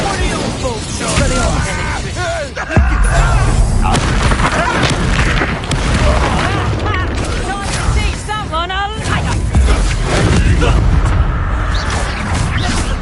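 Incendio fire spell cast in the Hogwarts Legacy video game, booming fiery bursts and whooshes in dense combat, loud and repeated, under a voice shouting spell names.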